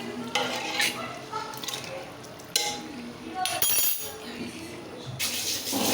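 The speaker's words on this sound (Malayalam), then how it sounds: "ഇനി നന്നായിട്ടൊന്ന് ഇളക്കി കൊടുക്കാം." A spoon clinks and scrapes against a pot while food seasoned with salt and lemon juice is stirred in a home kitchen, a series of close, irregular metallic taps.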